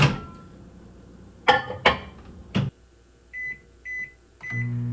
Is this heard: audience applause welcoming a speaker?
no